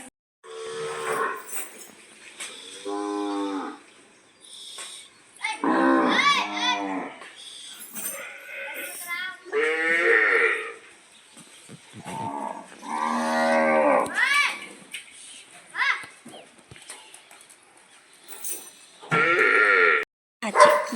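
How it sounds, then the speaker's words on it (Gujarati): Several cows moo loudly and close by as herders drive them along, with long, overlapping lowing calls rising and falling throughout. "અત્યારમાં ગાયોના ગોવાળા ગાયો લઈને જાય છે"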